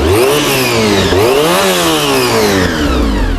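Honda RVF 400 motorcycle engine revving up and down loudly and close, with a rising and falling whine over a steady buzzing idle and no talk.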